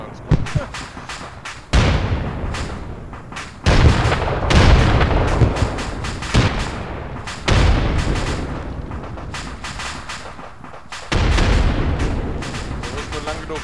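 Heavy explosions in the military video game ArmA 3, loud booms arriving every couple of seconds with rumbling tails, mixed with gunfire and voices talking over the blasts.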